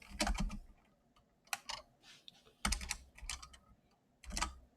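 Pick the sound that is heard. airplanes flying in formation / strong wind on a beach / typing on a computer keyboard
typing on a computer keyboard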